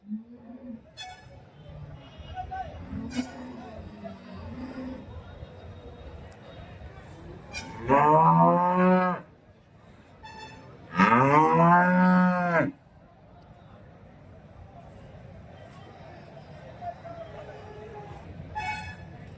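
Cattle at a dairy cow market in Santhipuram, Andhra Pradesh, give two loud, long moos in close succession, each lasting over a second, above a murmuring crowd and background chatter.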